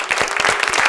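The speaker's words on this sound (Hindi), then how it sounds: "एक बार इस शो के लिए जोरदार तालियां हो जाए।" A TV game-show studio audience bursts into loud, dense applause, a steady wash of many hands clapping close by with no break.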